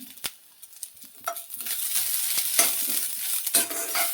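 Grated coconut roasting in a pan as a spoon scrapes and stirs it, with a few sharp knocks at first, then a rising, continuous dry sizzle under repeated stirring strokes, close and fairly loud.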